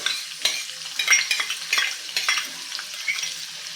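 Finely chopped onion goes into hot oil in a pan and fries with a crackling sizzle, with irregular stirring scrapes and spatters close by and no talk.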